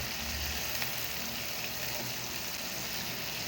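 Onion and green chili fry in a pan for a mola fish bhuna, giving a loud, even, continuous sizzle close by with no breaks and no voices.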